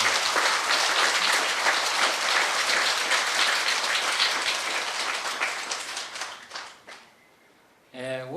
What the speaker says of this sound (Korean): 우리 원장 스님 이런 기회를 주신 데 대해서 박수를 한번 보내주시면